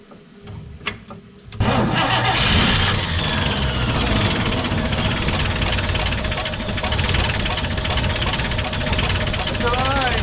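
A 1951 Chevrolet AD truck engine fitted with a replacement carburetor cranks briefly, then catches and roars to a loud rough idle that runs steadily; people talk and cheer over it.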